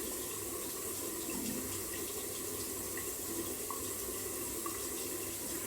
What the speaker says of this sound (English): I will try to just add a bit more water, and maybe that will spread it around a bit